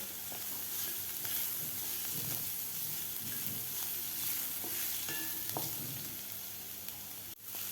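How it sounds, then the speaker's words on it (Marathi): Garlic and ginger masala paste sautéed in a pan and stirred for sprouted masoor usal, a continuous dense sizzle with scraping spatula strokes close by, ending in a sharp knock, no voices. "लसूण आणि आल्याचा कच्चेपणा जाईपर्यंत आपल्याला हे वाटण परतून घ्यायचं आहे"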